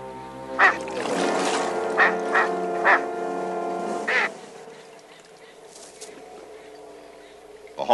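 Ducks quacking loudly and splashing in water in coyote country woodland, with repeated harsh quacks rising over a steady bed of splashing and honking, close by and busy, the calls fading into calmer water noise near the end.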